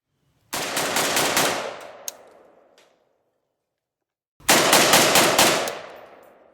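A semi-automatic Polish Archer Beryl rifle in 5.56 fires two rapid strings of about six shots each, loud and close, with echoing decay after each burst and a silent gap between them.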